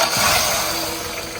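Ford Ranger 2.5 4x4 pickup engine idling smoothly, a steady close mechanical hum with a faint ticking texture and no voices.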